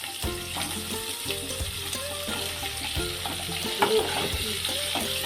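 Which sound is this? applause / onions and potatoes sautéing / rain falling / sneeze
onions and potatoes sautéing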